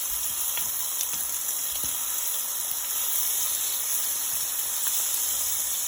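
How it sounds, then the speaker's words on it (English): Oxtails browning in a hot pan, giving a continuous bright sizzle and hiss with a few soft knocks as pieces are turned, close and steady throughout. "I'm going to go ahead and turn some of my oxtails because we don't want them to burn."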